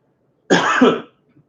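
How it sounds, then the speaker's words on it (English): A single harsh, wet cough from a lingering post-COVID cough bursts out loudly and lasts about half a second, with silence on either side. "nursing that residual cough from COVID"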